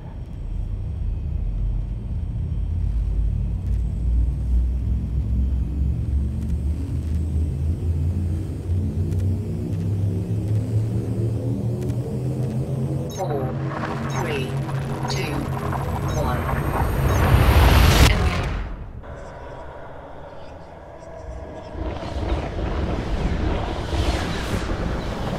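The frame shift drive of a Lakon Type-6 ship in Elite Dangerous charges with a low rumble that rises steadily in pitch, then bursts into a loud, roaring jump surge that drops to a quieter hum.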